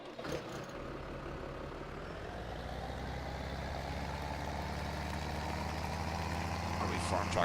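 Ford tractor in a farming simulator game, a steady low diesel idle rumble that holds constant and slightly swells toward the end, close and continuous.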